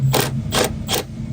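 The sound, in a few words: thread tap cleaning welded cab mount threads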